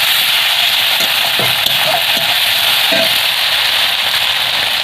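Tomato and ground ginger paste frying in a pan, a loud, dense, continuous hiss of sizzling oil with a few soft stirring scrapes, close up and without speech.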